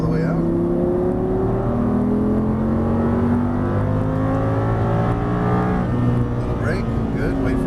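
An Audi R8 engine climbs steadily in pitch as the car accelerates hard out of a turn on a Las Vegas racetrack, a loud, continuous rising drone heard from inside the car with a voice talking over it.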